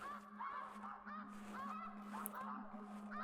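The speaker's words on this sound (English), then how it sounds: "Well, there are the snow geese." A flock of snow geese keeps up steady overlapping honking in theHunter: Classic, the calls moderately distant and repeating in quick bursts above a constant low drone.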